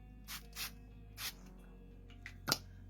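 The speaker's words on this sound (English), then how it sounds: "So we'll spray a couple times." Several short hissing bursts of makeup setting spray, three close together then a sharper one near the end, fairly near and quiet in between.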